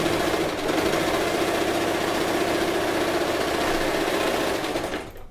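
An Elgin Genius sewing machine stitches through denim jeans, a steady close mechanical whirr running continuously for several seconds before stopping abruptly.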